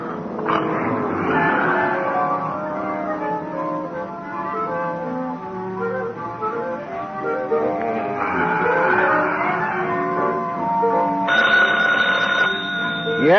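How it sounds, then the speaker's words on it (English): An old-fashioned telephone bell rings continuously for over ten seconds in a police office scene of a 1951 radio drama, loud and close with a steady trilling pattern. "Oh, phone, Gino."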